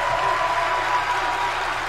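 A wrestling arena crowd in WWE 2K22 roars and applauds in a dense, steady wash of sound that stays loud and unbroken throughout.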